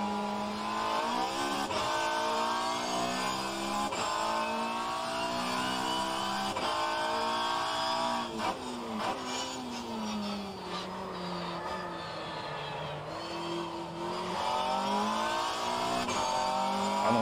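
A 1990s BTCC touring car in the rFactor 2 racing sim revs and shifts through the gears, its engine pitch climbing and dropping repeatedly at close range, with no speech over it.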